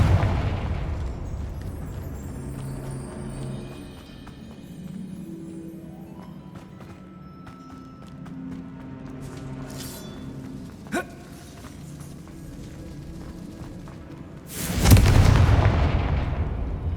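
Confringo spell in Hogwarts Legacy: a faint magical hum and whoosh builds for several seconds, then a loud explosive blast bursts near the end and rumbles off, with a small pop midway and no speech.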